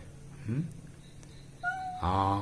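A cat meows nearby, once briefly and then again in a louder, longer call at the end, with a soft chirp between.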